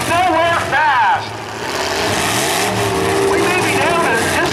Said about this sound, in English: He's got that Walmart truck going crazy. Spinning tire.